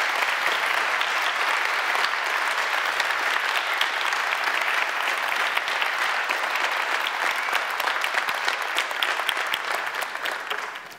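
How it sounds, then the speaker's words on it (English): An evening audience applauds steadily as two hosts walk on stage, a dense, continuous wash of many hands that stays loud throughout and fades slightly at the very end. "Do give them a round of applause"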